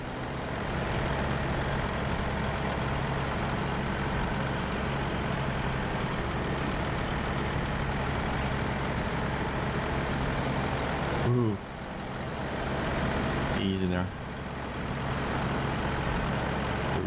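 An International Paystar truck engine drones steadily at speed in the video game SnowRunner, loud and continuous, with brief mechanical shifts near the end and someone talking over it.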